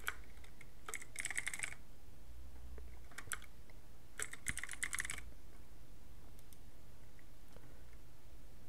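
A computer keyboard typed on in short bursts of quick clacking keystrokes with brief pauses between them, close but quiet, with a few isolated clicks and no speech.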